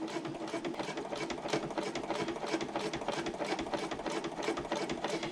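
Close and steady, a sewing machine stitches a slip pocket on a handbag, its rapid even needle chatter running continuously without pause.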